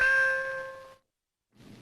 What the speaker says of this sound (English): A Radio Caroline bell was sounded at midday, the time Caroline went on air.